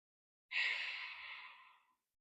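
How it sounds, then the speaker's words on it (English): A single long, breathy exhale of Ujjayi yoga breathing in child's pose, soft and close, starting abruptly and fading gradually over about a second and a half in an otherwise silent room. "Take a few Ujjayi breaths here, maybe 3."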